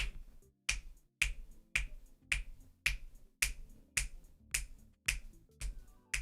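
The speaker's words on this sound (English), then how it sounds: "can you guys hear my snapping?" Finger snapping on a livestream, a steady series of about a dozen crisp, close snaps spaced roughly half a second apart against near silence.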